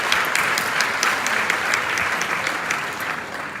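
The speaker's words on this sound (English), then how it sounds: "So you guys can give yourselves a round of applause." A ballroom audience at a gala president's ball applauds, a dense, continuous wash of many hands clapping at a moderate distance for several seconds, with no talk over it.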